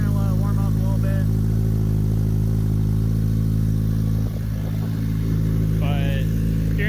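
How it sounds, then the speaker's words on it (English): A 2021 Kawasaki Ninja 1000SX with its slip-on exhaust removed idles after a cold start, a steady deep low rumble running throughout while someone talks over it. "So it's cold start, so we're going to let it warm up a little bit."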